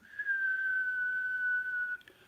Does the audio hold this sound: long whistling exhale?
yes